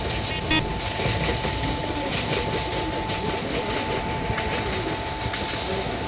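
Inside a superfast express train from New Delhi to Chennai Central, the carriage rumbles and clatters steadily as it picks up speed, with a constant rolling roar, faint rhythmic wheel clicks and a steady high whine.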